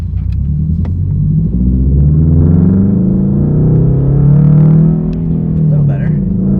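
Inside a 2022 Toyota GR86 with a JDL dual exit exhaust and the windows up, a steady low engine and exhaust drone rumbles throughout, swelling gently as the car cruises.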